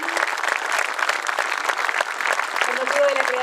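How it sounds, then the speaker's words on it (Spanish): Strong applause rings out at an official ceremony marking the 150th anniversary of a school in Colonia Teresa, steady dense clapping filling the hall, with voices speaking over it toward the end. "lo celebramos con un fortísimo aplauso también"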